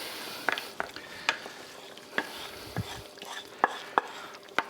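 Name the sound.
adding roux to beef stroganoff in a pan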